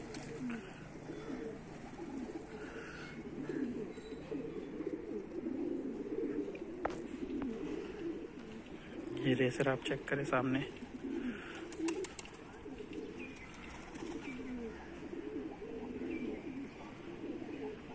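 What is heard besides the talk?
pigeons cooing and flapping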